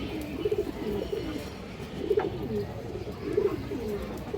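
A pair of silver pigeons coo nearby in soft, rhythmic bursts about every second and a half, each a low warbling phrase against a quiet background.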